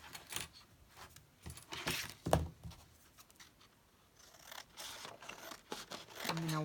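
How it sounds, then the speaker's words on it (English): Paper being cut with scissors for a junk journal, heard as quiet, intermittent snips and rustles spread across several seconds, with a slightly louder crisp cut near the middle and handling noise toward the end. "I'm just going to cut a piece."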